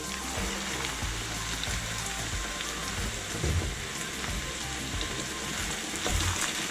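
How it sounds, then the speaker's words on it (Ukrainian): Mushrooms fry in a pan with sautéed onion, making a dense, continuous sizzle and hiss that stays loud and steady throughout, close by, with no talking. "буду обсмажувати до напівпрозорості. На цьому етапі додаю гриби."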